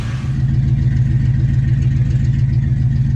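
A Ford Foxbody car's engine runs with a steady low rumble as it rolls off a trailer into snow, loud and close throughout with no talk.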